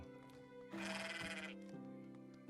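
A sheep bleats loudly in the Medieval Dynasty game, one drawn-out call over a quiet bed of soft ambient music.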